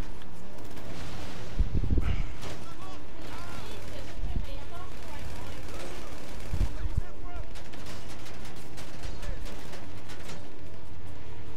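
Gunfire in GTA during a run of headshots: repeated shots and heavier low booms over a constant game-action bed, with people talking throughout.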